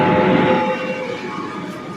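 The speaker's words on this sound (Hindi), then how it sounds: "यहाँ देखिए मेट्रो भी घुस चुका है" A Kolkata Metro train pulls into the underground platform at Howrah station, its steady rumbling roll loud and close, with a sustained tonal hum from the cars running through the whole stretch and no voices.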